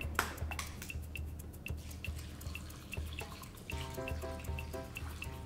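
Cranberry juice poured into a bundt pan, heard as a light trickle with small drips and pings over a steady low hum, with a brighter ringing splash building near the end.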